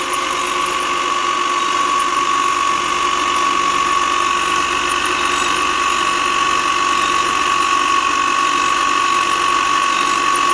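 Steady mechanical drone of a motor driving a well-drilling rig, with a constant whine and ratcheting, gear-like clatter running unbroken at close range for the whole stretch, no voices.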